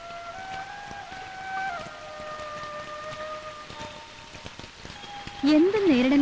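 Steady rain falls with a soft, even patter throughout. Sustained musical tones play over it, and a voice briefly rises near the end.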